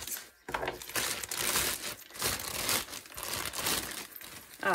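Packaging around a heavy ring stretcher and reducer being cut open up close, with loud, continuous crinkling and tearing of wrapping in uneven bursts and a short pause near the start.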